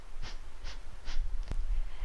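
Three sharp, forceful nasal exhalations of Kapalabhati yoga breath come at an even, quick rhythm, close and breathy. A brief click or knock follows the breaths.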